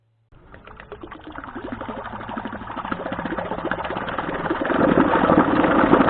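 Cordless-drill-powered homemade trolling motor running in reverse in water: a steady motorized whir that starts abruptly and builds, with water churning growing louder toward the end, close and with no talking.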